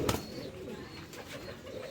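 Rampuri pigeons, a family of siblings from one pair, coo softly in short low bursts, faint and close, with no talking.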